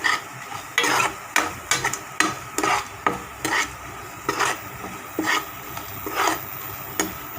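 Grated coconut sautéed in a pan for adai batter, with repeated scraping and stirring strokes of a spatula against the pan over a low background hiss, steady and close.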